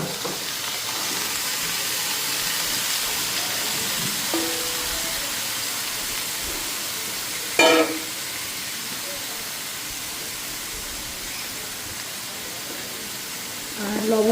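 Vegetables hit a hot pan of fried spices and turmeric in a home kitchen, giving a steady, close, loud sizzle and hiss that runs throughout, with a brief louder crackle partway and another flare near the end.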